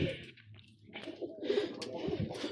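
Pigeons coo close by in a rounded, throaty, repeated call that rises and falls over a few seconds, with a few soft rustles between the calls and no talking.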